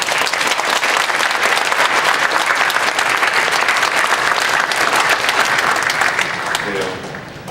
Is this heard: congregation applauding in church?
yes